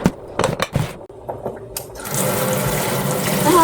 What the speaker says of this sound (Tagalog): Ito yung gusto kong picture sa sink ba? Sink faucet na ito.